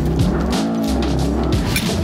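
A Mercedes E63s AMG slides sideways, its tires squealing in long wavering shrieks over a loud, roaring engine whose pitch rises and falls, all close by.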